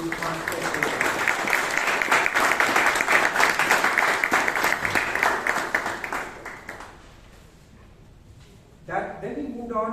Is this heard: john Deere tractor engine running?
no